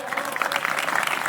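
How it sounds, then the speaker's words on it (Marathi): Dense, steady clapping from an audience at a stage performance event, close and continuous throughout. "जोरदार टाळ्या झाल्या पाहिजे."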